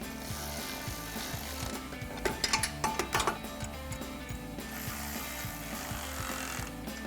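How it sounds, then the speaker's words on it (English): Ratchet with a 13mm socket tightening a bolt on a Jeep Gladiator JT suspension during a lift kit install, repeated close clicking strokes in steady rhythm with a brief burst of sharper clatter midway. "we can take a 13mm socket and 13mm wrench to tighten this down"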